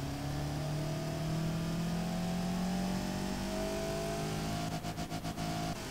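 A car engine in the video game Automation runs steadily, humming and whirring with a constant drone. Rapid pulsing comes in near the end.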